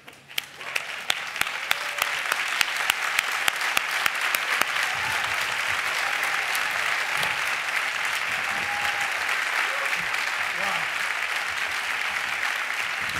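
A large audience rises to welcome keynote speaker Geoffrey Canada with loud, sustained applause, beginning with scattered claps and swelling quickly into dense, even clapping that carries on without letting up.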